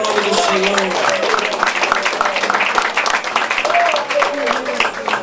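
A church congregation claps hands in praise during a Pentecostal sermon, a continuous loud burst of many hands with cheering voices and shouts woven through, sustained for several seconds.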